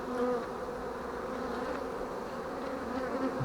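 Honeybees from a swarm being joined to a colony hum in a steady, dense drone right at the hive, close and unbroken throughout.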